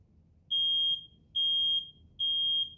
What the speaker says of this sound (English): smoke activates the smoke alarm.